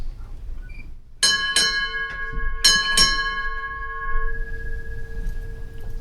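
A ship's bell at a U.S. Navy retirement ceremony rings four strokes in two quick pairs, each bright clang left to hum and fade in a quiet outdoor setting.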